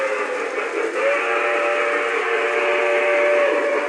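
A steady, sustained whistle from a model steam locomotive rolls around a layout, pulling ten Pacemaker cars and a caboose, holding a constant tone over the running noise.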